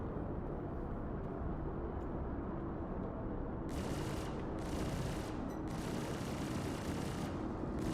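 Spaceship weapons in Star Citizen fire at turrets in a dense, continuous roaring barrage. The harsh hissing bursts thicken and cut in and out over a constant low engine rumble.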